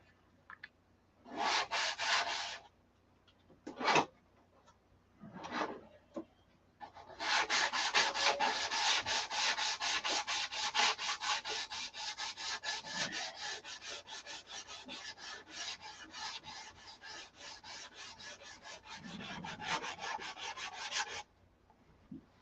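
Steady back-and-forth rasping of 400 grit sandpaper on a model part, a few short separate strokes and then a long continuous run of rapid rubbing, close and even in level.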